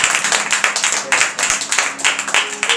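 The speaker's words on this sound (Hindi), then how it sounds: "जोरदार तालियां बजाएं।" Church congregation at a Hindi-language evangelical sermon clapping loudly, a dense, energetic burst of many hands with uneven rhythmic surges, close and full, with no speech over it.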